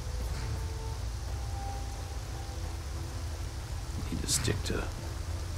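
Steady hissing rain falls in the video game Skyrim, a constant broadband wash under a voice speaking over it.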